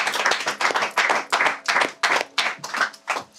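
Audience clapping at a French music show, about nine short rhythmic bursts of hand claps in a steady groove, fairly close and loud, with no talking over it.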